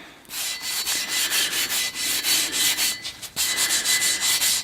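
Steel plate on a DIY welding table being scrubbed hard to strip rust and mill scale, a loud steady rasping rub repeated in quick regular strokes, close up and alone with only one brief pause.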